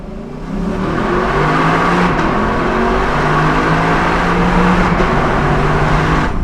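A powerful Lexus LC500 V8 engine revs up from a standstill and pulls hard, its deep tone rising through several gears, loud and close with no talking.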